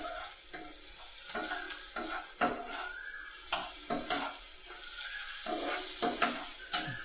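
Tomatoes and onions fry in a pan, giving a steady close sizzle broken by repeated scraping and stirring strokes, with no talking.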